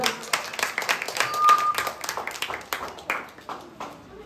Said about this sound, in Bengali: সবাই মিলে একবার জোরে হাততালি হয়ে যাক।